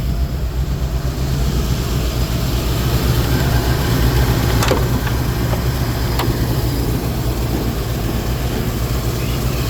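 A 1985 Ford F700 dump truck with a large 460 V8 engine idling, a loud, steady low rumble close by, with a couple of sharp clicks partway through.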